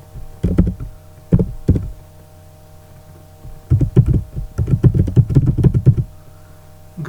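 Bursts of typing on a computer keyboard while writing React event-handling code, clusters of quick close key clicks separated by a pause, with a steady low hum underneath.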